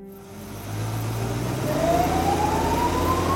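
An ambulance siren on a street, a rising wail that swells in gradually over a low, steady traffic rumble, with no talk.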